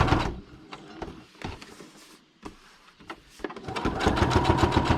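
A sewing machine runs a zigzag stitch through paper in rapid mechanical bursts, stopping and restarting several times before settling into a steady, louder run at the end.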